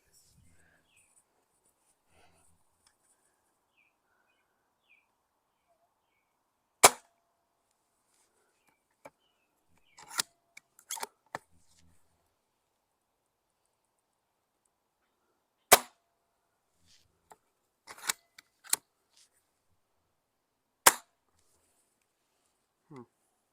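An airsoft sniper rifle fires at a target, giving three sharp, isolated cracks spaced several seconds apart, with a few quieter clicks and handling sounds between shots in an otherwise quiet setting.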